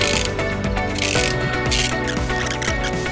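Ratchet clicking while tightening the steering wheel boss on a Honda Prelude BB6 during a quick-release hub install, close and steady over a continuous background, with a few heavier pulls.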